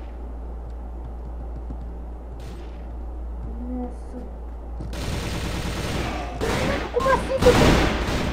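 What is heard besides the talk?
gunfire in a video game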